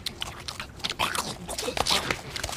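Dry roasted peanuts crunched and chewed close up, a rapid run of crisp, irregular bites and crackles at moderate loudness over a quiet indoor background.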